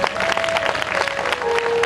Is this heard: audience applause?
yes